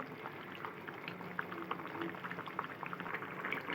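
Hilsa fish curry with beans and potato simmers in a pan, giving off a faint, steady bubbling with light popping crackles throughout.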